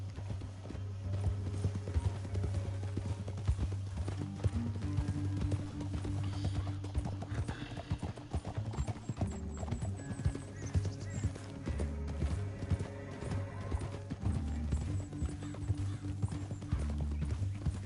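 Horses gallop through the Red Dead Redemption 2 video game, a steady clip-clop of hooves running continuously under a low droning music bed, with occasional whinnies and no talk over it.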